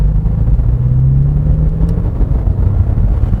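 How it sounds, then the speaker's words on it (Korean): A 2021 Porsche 718 Boxster GTS 4.0 with its sport exhaust active in sport mode drones at low revs in slow traffic, a steady close rumble with a brief rising engine tone. "기본 사양으로 되어 있는 스포츠 배기가 자동으로 이제 활성화가 되는군요."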